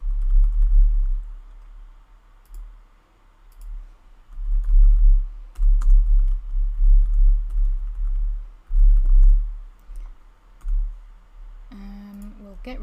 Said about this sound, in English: we are just going to type in all of the